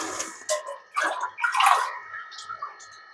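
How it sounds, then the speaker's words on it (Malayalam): Water splashes and gurgles into a rice pot for pulao in short uneven bursts, close and fairly quiet, with a few faint voice sounds mixed in. "ഇത്തിരി കൂടെ വെള്ളം വയ്ക്കാം."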